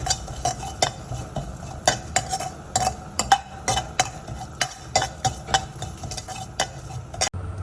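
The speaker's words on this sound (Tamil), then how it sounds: "கொத்தமல்லியும் போட்டு ஃபஸ்ட்டு நல்லா வணக்கிடுங்க" Coriander being sautéed in a pan for tomato soup, with a spoon stirring and scraping against the metal in a steady run of light clinks and taps, close up and without talk.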